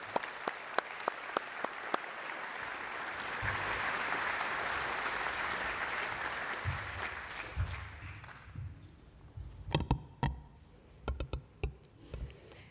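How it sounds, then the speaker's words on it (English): Audience applause at a university graduation ceremony swells into a warm, steady round of clapping from a large crowd, then thins out into scattered individual claps and handling noises at the end. "Will you please give her a warm round of applause?"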